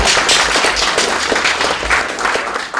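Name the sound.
audience applause at presentation event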